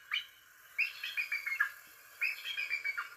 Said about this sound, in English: Real bald eagles sound like this.